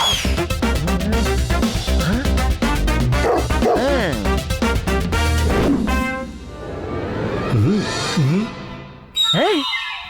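Small dog giving yips and whimpering barks in a cartoon pet-shop scene, heard in quick bursts mixed with lively music and animated voices talking over them.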